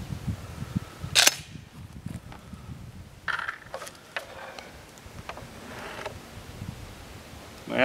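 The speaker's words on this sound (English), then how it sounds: "this is going to be the 40-yard shot with the Jellyhead" A Winchester Longbeard XR shotgun fitted with a Primos Jellyhead choke fires one sharp blast at a 40-yard target, followed by quieter clicks and rustling handling noises.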